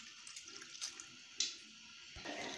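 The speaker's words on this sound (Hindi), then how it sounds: "एक ग्लास हम इसमें पानी शामिल करेंगे।" A glass of water is poured into amla with salt and turmeric while an amla pickle is made in a home kitchen. The splash is brief and soft and lasts a couple of seconds.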